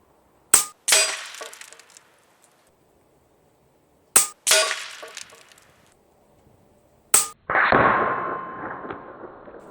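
Three sharp shots from a Taipan Veteran Long .25 PCP air rifle, each a loud crack followed by a short ringing or clanging impact, spaced a few seconds apart; the last impact trails into a longer, noisier rattle.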